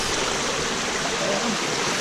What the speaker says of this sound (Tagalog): Ganito kalakas ang bukal dito